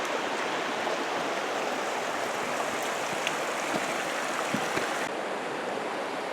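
Creek water flowing beside a campground in Banff National Park, heard from a bridge as a loud, steady rushing wash with no talk.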